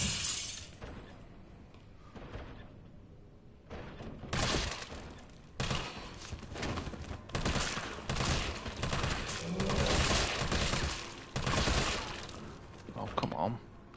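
Bursts of gunfire in Resident Evil 3 Remake, played as Carlos at the RPD station, with repeated short volleys through the middle and end over a busy game soundscape, with someone talking in between.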